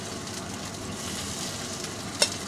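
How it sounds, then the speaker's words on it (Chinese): Beef pieces pan-fry at home in hot oil, giving a steady, even sizzle and crackle close by, with a single small click near the end. "呢啲牛肉咧捉翻嚟煎係最好食嘅"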